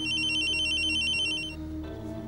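A telephone rings indoors with a loud, steady electronic trill for about a second and a half, then cuts off, leaving quieter room tone.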